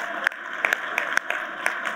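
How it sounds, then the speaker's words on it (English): Applause from a gala audience, a steady wash of many hands clapping at once, moderately loud and close, holding evenly for its short length with no voices above it. "Give yourselves a big round of applause."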